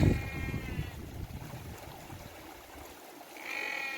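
Sheep on open moorland at Dartmoor bleating loudly: a wavering bleat at the start and another near the end, with rough outdoor wind and handling noise between.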